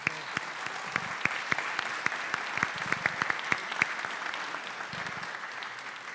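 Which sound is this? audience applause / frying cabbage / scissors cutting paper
audience applause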